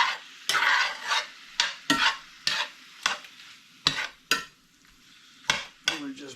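Chicken pot pie filling being browned in a pan: a series of sharp scraping stirs with a utensil, roughly ten spaced strokes over a faint sizzle, close by with no talking.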